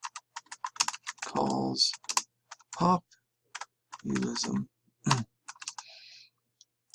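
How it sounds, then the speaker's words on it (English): Quick bursts of clicking keystrokes on a computer keyboard come at an uneven pace, interleaved with someone speaking close to the microphone. "I'm typing like garbage here"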